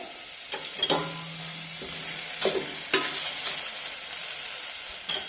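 Spice powders sautéing in a pan for a potato curry: intermittent scraping stirs and a few clinks over a faint, steady sizzle, with no voices.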